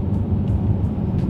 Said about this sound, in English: I just love the gnarly engine this car has, and it just growls